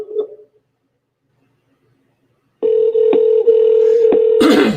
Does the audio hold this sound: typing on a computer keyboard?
no